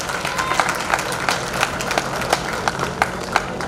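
A crowd at an Ambedkar Jayanti celebration claps loudly for children being introduced, a continuous wash of applause with sharp individual claps standing out.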